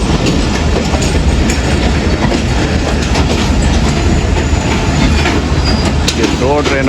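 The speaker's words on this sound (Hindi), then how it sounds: "दो ट्रेनों का रश है।" Two Indian passenger trains rushing past at close range, a loud, continuous roar of wheels with steady clickety-clack and a faint squeal near the end.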